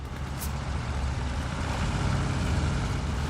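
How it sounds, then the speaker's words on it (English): A heavy truck engine in the video game Hell Let Loose rumbles steadily at moderate distance, a deep continuous drone with a brief hiss of air near the start. "the trucks sound really beefy."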